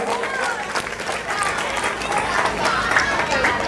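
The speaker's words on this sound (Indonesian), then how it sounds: "Tepuk tangan untuk Ananda Kanza." Audience applause at a graduation ceremony of a Qur'an memorization madrasah, greeting a student named Ananda Kanza; steady mixed clapping and crowd noise, fairly loud and continuous, with some voices underneath.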